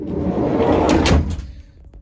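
A freshly adjusted, not yet greased door swinging shut with a firm, even closing thud, loud and near, with no one speaking.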